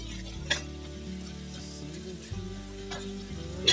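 Bathua greens frying in a pan with potato, peas and tomato, a faint sizzle with a few stirring clicks and a low steady hum underneath, no talk.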